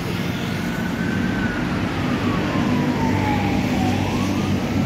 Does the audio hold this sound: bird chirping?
no